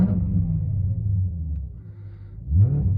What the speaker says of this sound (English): I'll give a couple revs before I go.